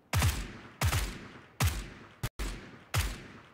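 Five loud, sharp gunshots in a shooting video game, fired one at a time with short gaps, each ringing out briefly, no talk.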